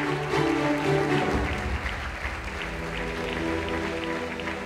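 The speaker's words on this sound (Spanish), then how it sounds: "Mari Carmen Aguilera Gea, a quien recibimos con un fuerte aplauso." Audience applause at a town coronation ceremony in Campo de Guardamar, a steady sustained clapping from a crowd, loudest at the start then holding evenly.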